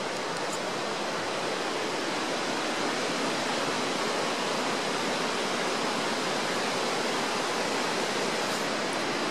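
Creek flowing through a quiet corner of the woods, a dense, steady rush of water that stays loud and unbroken throughout, with no voices.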